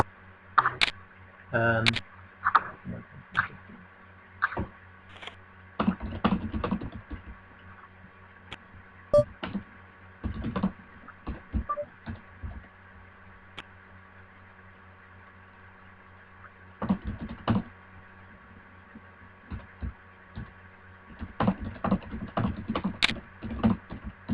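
A note is typed on a computer keyboard in short, soft bursts of clicking separated by quiet gaps, with a faint steady hum underneath.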